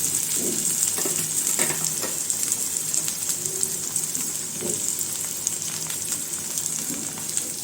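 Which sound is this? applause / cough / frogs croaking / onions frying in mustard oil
onions frying in mustard oil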